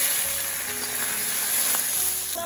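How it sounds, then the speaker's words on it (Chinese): Meat stir-fried in hot oil in a wok, a steady close sizzle with faint scraping of stirring throughout, no talk. "锅内油热，先把肉倒进去炒一下。"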